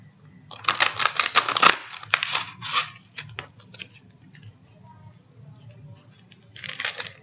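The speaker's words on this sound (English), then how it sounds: "let me go ahead and shuffle the cards" Tarot and oracle cards are shuffled in a fast riffling burst of crisp papery flicks, then slower scattered card slaps and a short final riffle, over a low steady background hum.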